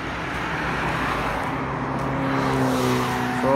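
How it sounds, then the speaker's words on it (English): Fast cars on a newly built paved road in the Gambia make a steady, loud traffic roar, with engine drone rising and shifting as vehicles pass close by. "You see how this car is running? They run very fast, guys."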